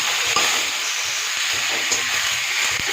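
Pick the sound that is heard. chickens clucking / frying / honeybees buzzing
frying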